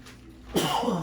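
A single loud, sharp sneeze bursts out after a brief quiet moment, close and forceful, followed by a short breathy tail.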